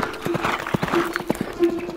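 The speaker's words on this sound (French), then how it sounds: "Fais le cheval noir qui galope le soir." Horse hooves gallop in a quick, steady clip-clop rhythm, close and fairly loud, with a faint sustained musical tone underneath.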